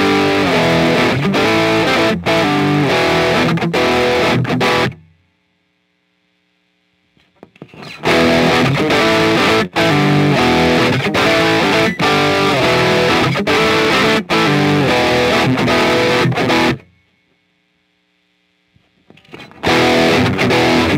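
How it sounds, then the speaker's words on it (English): Heavily overdriven electric guitar chords through a BOSS OS-2 overdrive/distortion pedal, loud and buzzy, played in two long bursts separated by a few seconds of silence, then starting again. "that's when you're starting to get into the distortion ranges"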